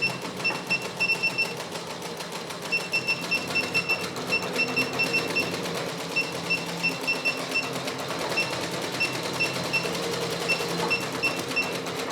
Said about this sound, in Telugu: ఎంత హై స్పీడ్ పెట్టినా కూడా మనకు సౌండ్ అనేది చాలా అంటే చాలా నాయిస్ తక్కువ వస్తుంది